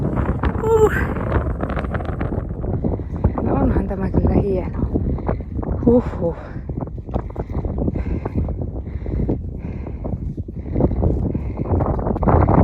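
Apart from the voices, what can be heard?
strong wind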